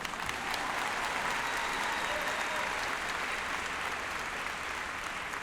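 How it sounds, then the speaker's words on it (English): A commencement audience applauds the graduates at the Community College of Rhode Island 2017 ceremony, a dense, even roar of many hands clapping that fills the whole stretch without letup. "go ahead, give them a hand."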